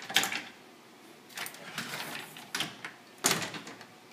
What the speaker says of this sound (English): bifold doors.